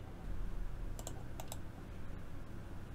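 A command is typed on a computer keyboard, with a few quick keystroke clicks in a short cluster, close and fairly faint over a low background hum.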